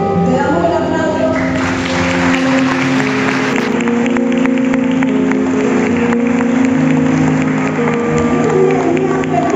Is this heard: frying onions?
no